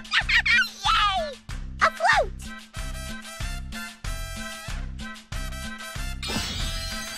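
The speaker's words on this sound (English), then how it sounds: "A flute sounds like this." Flute in a Sesame Street Wii music game, playing a bright melodic run of short notes over a pulsing rhythmic backing.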